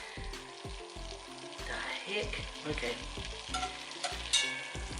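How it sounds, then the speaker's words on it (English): Butter sizzles and fries in a pan as the base for a seafood chowder, a steady crackling hiss with rhythmic stirring or scraping knocks, fairly close but low in level, with a brief spoken remark over it. "Can you hear it sizzling?"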